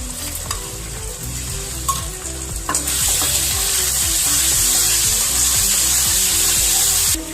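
Tomato, sour yogurt, chili, turmeric and cumin powder mix hitting hot oil in a pan for a Bengali mutton curry, with rhythmic stirring scrapes that swell into a loud, steady hiss and sizzle at close range.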